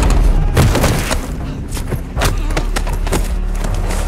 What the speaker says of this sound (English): Gaz, hit him with the launcher!